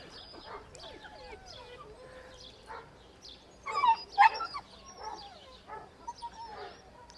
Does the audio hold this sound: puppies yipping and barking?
yes